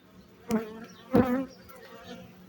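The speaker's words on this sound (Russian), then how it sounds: "И сейчас еще пчелок стряхнем" Honeybees buzzing close by from an opened hive, a droning hum with a couple of louder swells as insects pass near, over a low background hum.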